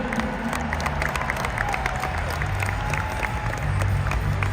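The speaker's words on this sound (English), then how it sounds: "Let's give them all a round of applause" An audience at a Texas rodeo event in Houston applauds with steady, dense clapping and crowd noise throughout, a continuous wash of sound with faint cheering mixed in.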